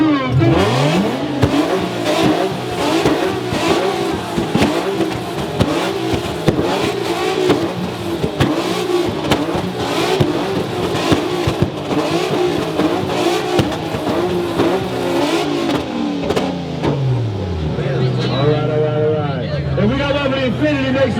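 A group of drift cars at a drifting event rev their engines together in a loud, sustained, roaring chorus with rising and falling pitch that fades near the end as a crowd and an announcer's voice come through.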